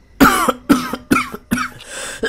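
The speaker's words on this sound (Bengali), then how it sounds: "এই বলে সে কাশতে লাগল।" A person coughs four times in quick succession, loud and close, each cough a sharp burst followed by a brief breath, with no talking.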